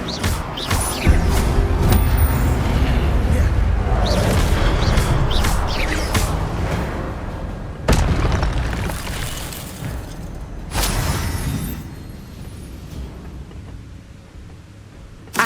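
Repeated Incendio fire spell blasts in Hogwarts Legacy, loud whooshing bursts with sharp cracks near the second, eighth and eleventh seconds over a continuous roaring, crackling game din.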